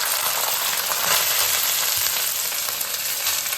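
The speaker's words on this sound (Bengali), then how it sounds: "ঘি আর তেলটা গরম হয়ে গেছে, এবার আমি ভাতটা প্রথমে আস্তে করে দিয়ে দেবো।" Rice slid into hot ghee and oil in a pan for homemade Hyderabadi mutton biryani gives a steady, close, loud sizzle that holds without a break through the whole stretch, with no talking.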